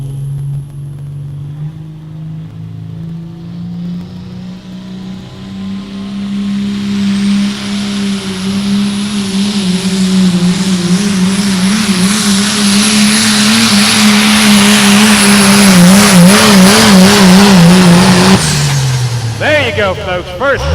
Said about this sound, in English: Rev her up, get them turbos spinning, look for that fuel.